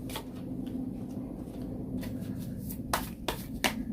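Soft tarot card shuffling and handling with a few sharp flicks and slaps near the end as a card is drawn, close by with no talking.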